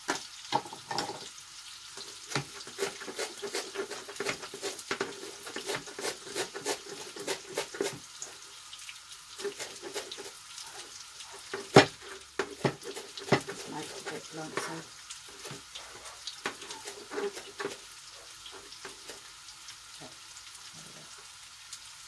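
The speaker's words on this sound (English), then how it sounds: "Potatoes are sizzling away." Lyonnaise potatoes sizzle and crackle steadily in a hot pan, with occasional stirring scrapes and pops, close by and without talk.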